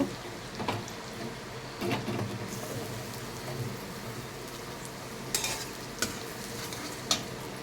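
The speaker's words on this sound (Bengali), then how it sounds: "পেঁয়াজটাকে আমি লাল লাল করে ভেজে নেব।" Chopped onion fries in hot oil in a pan, browning toward a reddish color, with a steady sizzle and occasional scraping stirs and utensil knocks, close up and with no talking.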